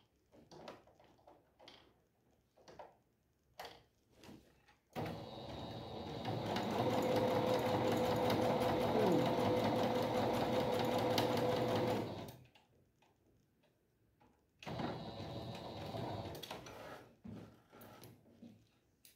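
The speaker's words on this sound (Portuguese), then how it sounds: "vamos passar aqui, ó, o pezinho de máquina" Domestic sewing machine stitching fabric strips for a patchwork rug, with a few short clicks and handling sounds, then a steady rapid mechanical whir for several seconds, a pause, and another stitching burst near the end.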